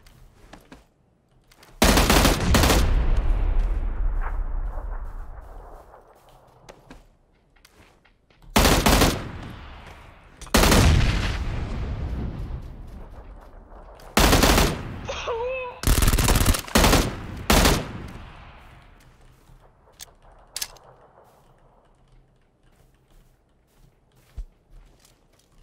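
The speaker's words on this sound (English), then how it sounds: "The M16, dude. That clean 3 burst." M16 rifle gunfire in the video game PUBG: several loud, sharp bursts spread over about 25 seconds, each trailing into echo, with a brief voice fragment among them.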